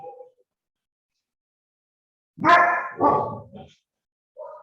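A dog barks in two loud, close barks, followed by a shorter bark shortly after, with quiet gaps between; no talking.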